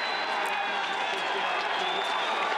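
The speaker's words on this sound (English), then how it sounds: "Crowd likes the look of that." A steady, dense roar of spectators cheering and clapping at a cross-country skiing mixed team sprint at the Winter Universiade, heard from a distance with a commentator's voice partly over it.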